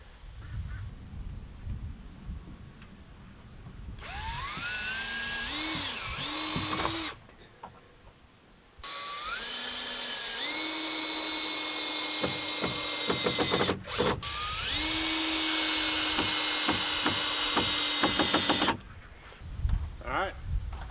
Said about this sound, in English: I'm driving a screw like this at an angle on each side of this board, and that holds it in place